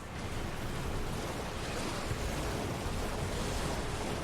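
Rushing waterfall in the video game Elden Ring, a steady, broad roar of falling water that stays even and loud throughout with no talk over it.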